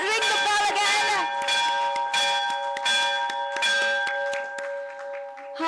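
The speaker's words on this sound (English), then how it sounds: "Let's ring the bell again." A ceremonial bell at a stock exchange listing ceremony is struck repeatedly in quick succession, loud and ringing with sustained metallic tones, while a crowd cheers and claps faintly in the background.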